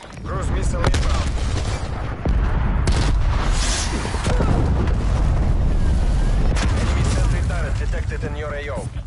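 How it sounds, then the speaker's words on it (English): Cruise missile strike explosions in a military video game, heavy booming blasts and rumbling crackle filling the scene continuously and loudly, with radio-style voices and a player talking over the chaos. "Cruise missile inbound."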